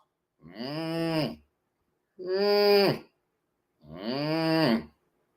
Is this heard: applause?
no